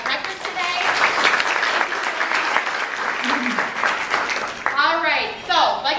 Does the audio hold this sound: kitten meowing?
no